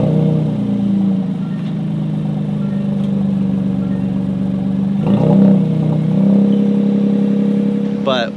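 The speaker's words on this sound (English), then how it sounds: "this exhaust tone is actually really nice" A Toyota GR Corolla fitted with a TOM'S exhaust revs up and settles in a few swells, a close, throaty drone with a brief blip midway and a faint click at the end.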